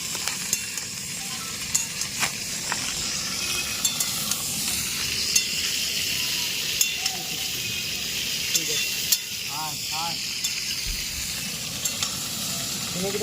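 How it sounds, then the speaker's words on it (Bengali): Potatoes fry in oil, a steady close sizzle and hiss with occasional sharp stirring clicks and faint background sounds, during an outdoor picnic cook-up, no one speaking. "এবার আলু ভাজা বসে গেল।"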